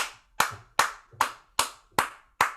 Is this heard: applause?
yes